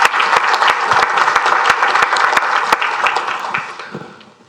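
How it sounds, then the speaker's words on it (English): Audience applause at a talk on open innovation, a dense burst of clapping from a full room that holds steady for several seconds, then tapers off. "I think we can all give Solomon Darwin a round of applause for a brilliant initiative"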